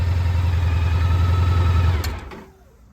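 A 2004 Honda ST 1300 Pan European motorcycle idles with a steady, loud low rumble. The engine is then switched off near the end, leaving a brief click and a fade to near silence.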